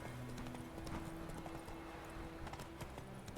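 A horse gallops in The Witcher 3 video game with steady, rapid clip-clop hoofbeats at moderate volume over a continuous background drone.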